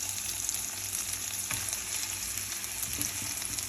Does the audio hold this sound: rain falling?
no